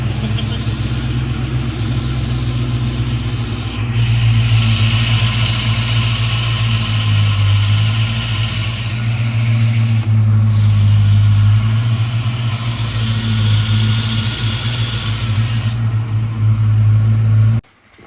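Idling close by at a steady, loud pitch, a Ford Mustang Foxbody engine gives off a low rumble with small swells in revs. It cuts off sharply at the very end, and no voices can be heard.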